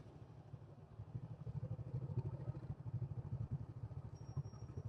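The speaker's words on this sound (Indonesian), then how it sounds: "Saya lagi di atas motor ini." A motorcycle being ridden, its engine a steady low rumble with rapid pulsing throughout, fairly faint and with no voices.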